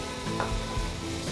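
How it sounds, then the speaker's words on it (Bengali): Paneer cubes fry in a pan with a steady, close, even sizzle throughout, with no voices. "হালকা করে ভেজে নিচ্ছি।"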